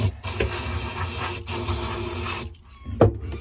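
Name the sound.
aerosol spray being sprayed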